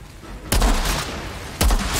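Gunfire in the shooter game Outriders: two sharp, loud gunshot blasts about a second apart, each with a booming low tail, over a quieter background.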